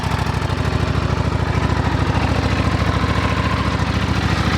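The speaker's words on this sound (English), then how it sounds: "it's kind of goofy, I think, how it idles, but that's just the way the Buells are" A 2009 Buell 1125R sport bike's engine idles up close with a loud, steady, lumpy pulsing throb that never changes across the stretch.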